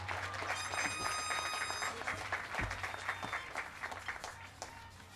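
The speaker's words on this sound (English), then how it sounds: "Big round of applause for these students." Scattered applause from a high school graduation audience, faint and uneven with individual claps popping out, a brief whistle-like tone early on, and a low hum beneath.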